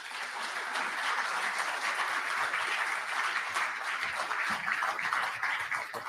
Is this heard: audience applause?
yes